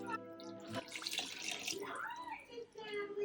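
Stock pours into a cooking pot for a slow-cooker dinner, a watery splashing gush under a voice speaking partway through, close and moderately quiet.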